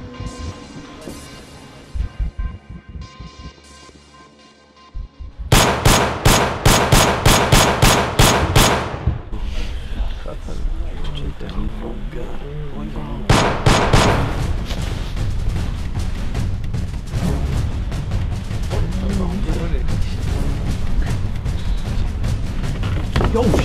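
Loud, close gunfire from a 2010 feature film erupts after a quiet stretch: a rapid automatic burst of sharp shots, a brief lull, then sustained heavy firing with booming impacts continuing to the end.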